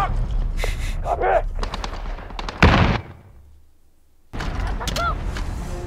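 Gunfire in Call of Duty Modern Warfare comes as bursts of close, sharp shots and a heavy blast, then a short lull before more firing, while a player talks excitedly over it.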